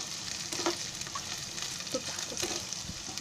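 Boiled, peeled potato pieces fry in a pan for an aloo matar paneer dish, giving a steady faint sizzle with a few soft stirring clicks, with no talking.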